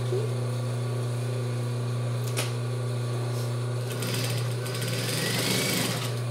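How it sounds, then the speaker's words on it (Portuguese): An overlock sewing machine zigzag-stitches a shoulder seam on a child's jumpsuit, giving a steady, close mechanical whir with a strong constant hum that sounds continuously throughout. "Agora a gente passa o nosso zigue-zague, o nosso overlock dando acabamento."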